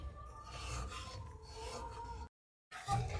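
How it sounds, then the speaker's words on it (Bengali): A spatula scrapes and stirs a thick chana dal sandesh mixture in a pan, giving quiet rasping strokes in a continuous rhythm, briefly stopping before resuming. "এইভাবে অনাবরত আমি নাড়তে থাকবো"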